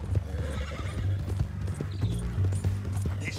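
Horse hooves clip-clop steadily in Red Dead Redemption 2 gameplay, with a neigh or whinny among the hoofbeats and low rumbling game ambience beneath, all continuous and fairly close.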